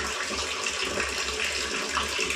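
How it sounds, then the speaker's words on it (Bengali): Tap water streams steadily into a drinking water bottle, a close, continuous rushing splash with no pause. "আমি তো খাবারের জলটা ভরে নিই বন্ধুরা, চলো তাহলে বোতলে।"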